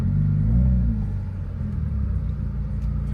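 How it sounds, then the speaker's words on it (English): A 2021 Subaru WRX turning through a U-turn, heard from inside the cabin: a steady low engine and road rumble at moderate volume, with no talking. "We're gonna see how the U-turn radius is on this car."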